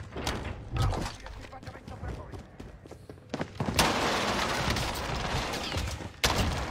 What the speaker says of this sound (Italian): Sparo io